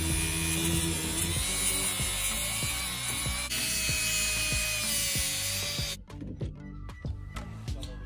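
Dremel rotary tool grinding across the scaly hide of an alligator gar: a loud, steady high-pitched whine with rasping scrapes throughout, cutting out abruptly partway, followed by softer clicks and handling noise.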